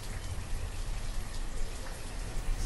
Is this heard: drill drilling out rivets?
no